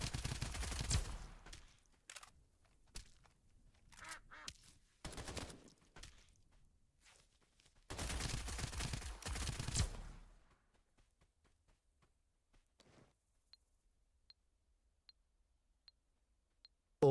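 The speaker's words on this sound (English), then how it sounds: "I heard gunfire over here." Loud bursts of video game gunfire come in several volleys, then fade to quiet with faint distant clicks.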